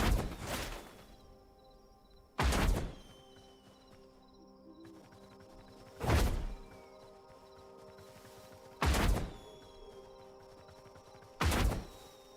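A block video game's large fireball explosion effect is heard five times, each a loud booming burst with an impact, spaced a few seconds apart over quiet game background tones.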